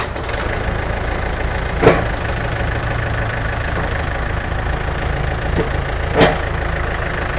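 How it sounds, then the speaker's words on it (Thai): A Yanmar EF494T tractor's diesel engine idles steadily at close range, a low continuous rumble with two brief louder knocks or clanks partway through. "รถสตาร์ตติดง่ายนะคะ"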